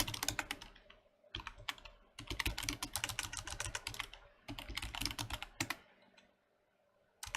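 Rapid typing on a computer keyboard while entering a game command, close and clattery bursts of keystrokes separated by brief pauses, ending in a quiet stretch with a last few taps.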